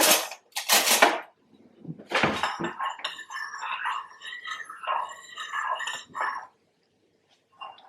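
Vanilla being stirred into a batter in a bowl, with a spoon scraping and clinking against the bowl in quick irregular strokes, close and fairly loud, a few heavier knocks at the start.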